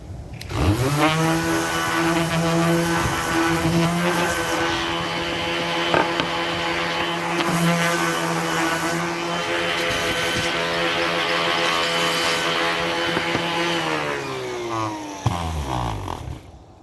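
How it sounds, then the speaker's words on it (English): A power sander runs continuously on a cabinet edge for a cargo trailer sign shop build, a loud, steady motor whine close up that starts abruptly, holds for over ten seconds, then winds down. "Then you just hit it quick with a sander."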